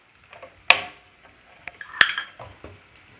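Tomatoes go into a pan for a Kerala-style fish curry and are stirred, giving two sharp metallic clanks of a spoon against the pan among softer scraping and clinking, quiet and close with gaps between.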